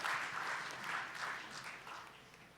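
Round of applause from an audience at an award ceremony for a medical conference's Master of Masters honor, with steady, fairly faint clapping that slowly fades.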